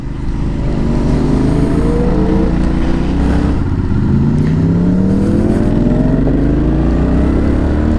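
An Aprilia RSV4 V4 sport motorcycle engine revs hard and loud, its pitch sweeping up repeatedly through rising gear-by-gear acceleration with quick shifts, a continuous roaring whine held close for the whole stretch.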